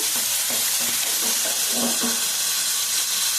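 Tomatoes sizzle in a pan while cooking for a Telugu-style tomato and green chili roti chutney. The hiss is loud and continuous and steam-like, with faint scraping underneath.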